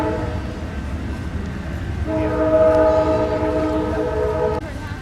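A train in Winter Park, Florida rumbles past with a steady low roar, then a loud, sustained horn blast sounds for a couple of seconds before cutting off.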